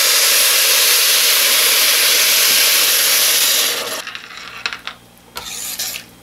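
Milk poured over rice and red beans in a pot while making Jamaican rice and red beans, a steady loud rushing hiss for about four seconds that stops abruptly, followed by faint scattered clinks and rustles.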